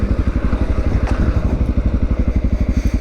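Motorcycle engine idling in neutral, a steady close, loud rhythmic low thumping that runs alone without speech.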